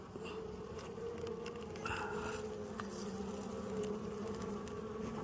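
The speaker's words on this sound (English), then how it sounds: "Trying to find a good scoop of bees" Honeybees being scooped into a hive box make a dense, continuous buzzing drone up close, with scattered soft rustling and patter as the bees shift, no voices.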